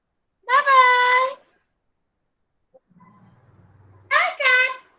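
A cat meows in two bursts, near and fairly loud, with a long quiet gap between them broken by a faint low rumble.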